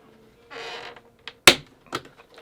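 Plastic hard drive bay door on a PlayStation 4 Pro console pried off by hand: a short scraping rustle, then a sharp loud snap as the door releases, followed by a couple of softer clicks, close and alone.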